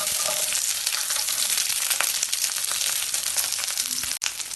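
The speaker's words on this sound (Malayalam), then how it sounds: "ഇതിന് കുറച്ച് സമയം ഇളക്കി വഴറ്റാം" Small shallots, garlic, green chillies and curry leaves sauté in oil for a kohlrabi curry, giving a dense, continuous crackling sizzle that cuts out briefly near the end.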